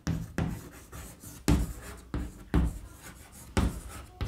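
A pen scratches across paper at close range during a Class 8 geometry lesson, with a steady run of rasping strokes and a firmer tap or stroke roughly every second. No one speaks.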